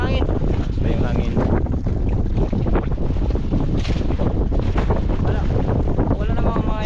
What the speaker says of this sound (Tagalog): Lakas ng hangin. Basta yung hangin.